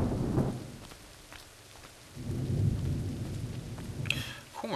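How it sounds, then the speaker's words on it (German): Rain and thunder in the video game Assassin's Creed 3: a thunder crack opens, then steady rainfall swells and continues, with a faint brief high sound near the end. "Ich habe noch gar keinen Regentanz aufgeführt. Trotzdem regnet es."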